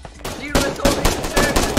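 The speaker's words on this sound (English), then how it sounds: "he's got a machine gun! Auto rifle!" Machine gun fire in a video game, a short run of loud, close automatic shots in quick succession.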